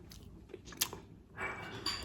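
Someone takes a first bite of food, probably birthday cake, and chews, giving a few soft crunchy bites and chewing noises close up with no speech.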